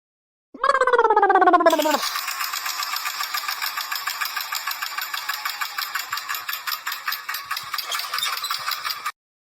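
A tractor engine cranks with a rising whine for about a second, then catches and settles into a fast, even diesel chug that runs steadily and loud before stopping abruptly, with no talk over it.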